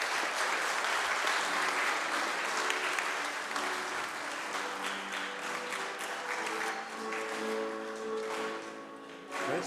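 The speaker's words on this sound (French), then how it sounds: "on peut les féliciter par les acclamations" A Mass congregation applauds people with January birthdays standing up to be celebrated; sustained, dense clapping fills the church, fading slightly as a voice and musical tones begin to emerge near the end.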